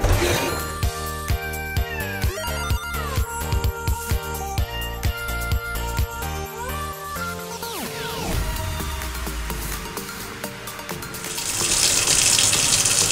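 Tap water runs and splashes steadily over a doll's hair being washed with baby shampoo, with faint clinks and handling along the way, rising into a louder gush near the end.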